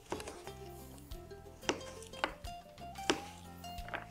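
A knife chops butternut squash into cubes on a board in a series of sharp, evenly spaced cuts and taps. It sits close and fairly quiet over a faint background hum.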